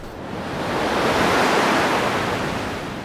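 Ocean waves surge in a steady broadband wash that swells, peaks near the middle and eases slightly, loud and close with no voices.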